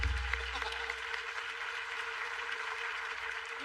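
Studio audience clapping on the Kapil Sharma comedy show, a dense, steady wash of many hands applauding at moderate distance and fairly faint throughout.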